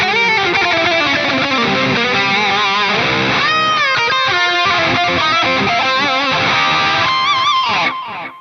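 Electric guitar through an Atomic Amplifire 6 with a delay effect, a continuous loud run of notes and chords that blur into repeating echoes before fading at the end.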